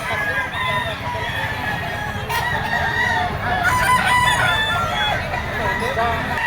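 A gold yellow-legged banderado gamecock, two years old, crows loudly and close, with clucking and a murmur of people in the background.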